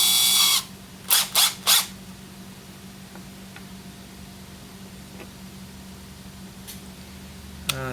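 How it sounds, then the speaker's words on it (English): A power drill bores into a chainsaw carburetor part during a 394XP to 395XP carb conversion. One close burst is followed by three short, evenly spaced bursts, then a quiet room with faint ticks. "Get this drilled."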